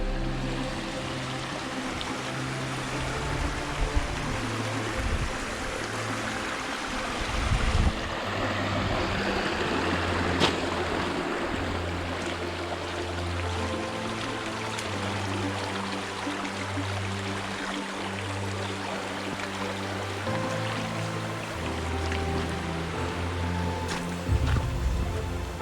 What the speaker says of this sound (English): First little bit of a river crossing.